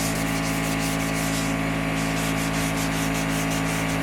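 Wet sanding a surface by hand with adhesive sandpaper in X patterns, outdoors in the rain, gives a steady, loud rubbing hiss with rhythmic back-and-forth strokes, close up, over a constant low hum.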